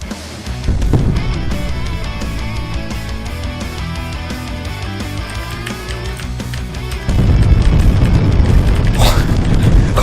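A loud explosion in WorldBox - God Simulator bursts out, followed by a rumbling roar of noisy blasts, with music-like tones before it.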